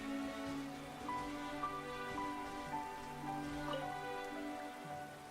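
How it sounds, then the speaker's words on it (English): Rain patters steadily on surfaces in the video game Genshin Impact, a soft even hiss joined by faint tonal game music, with no talking. "Wonder if the rain is like pre-programmed here."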